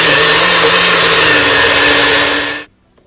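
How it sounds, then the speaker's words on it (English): A blender whirring through persimmons, a loud, steady high-pitched motor hum with a constant pitch that runs for a few seconds and then cuts off abruptly into near silence. "so that the blender doesn't work too much to mix and blend all the persimmons"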